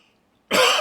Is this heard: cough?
yes